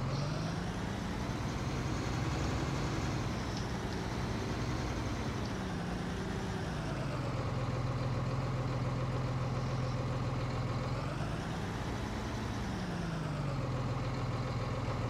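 Ursus tractor engine in Farming Simulator 19 running steadily, a continuous low diesel drone that rises and falls in pitch as it revs up and settles back, close and unbroken throughout.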